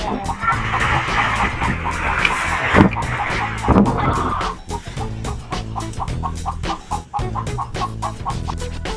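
A toy chicken from a farm animals toy set clucks in repeated rhythmic bursts over music, with a spoken voice between the calls.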